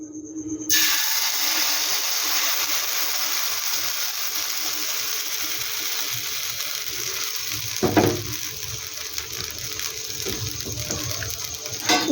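Semolina batter is poured onto a lightly oiled hot tawa, setting off a steady close sizzle that holds throughout with a few small clinks and scrapes.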